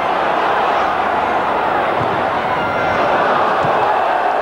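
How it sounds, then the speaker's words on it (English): A football crowd at a 1991/92 English First Division match between Arsenal and Leeds United ooh and aah at a shot on goal, a dense, loud roar of stadium voices swelling steadily for several seconds. "Well, the crowd oohed and ahed"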